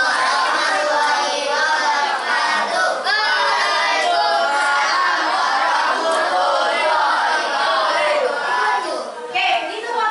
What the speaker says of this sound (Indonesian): beri tepuk tangan buat kelompoknya Pulau Papua ya